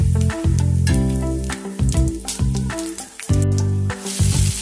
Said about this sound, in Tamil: எண்ணெய் சூடேறிடுச்சு, இப்போ நம்ம சோம்பு போட்டுக்கலாம்.